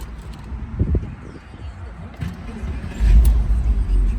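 A Porsche 911 Carrera engine cranks and catches near the end, rising into a loud, low idle rumble after a stretch of quieter handling noises and brief talk.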